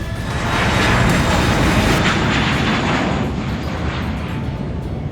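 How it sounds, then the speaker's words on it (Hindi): Fighter jets such as Sukhoi, Mirage 2000 and Jaguar roar overhead at an air show over an expressway, a loud, continuous broadband jet rumble without any talk. "सुखोई, मिराज 2000 और जगुआर जैसे फाइटर विमानों ने अपना जौहर दिखाया और एक शानदार एयर शो आयोजित किया गया"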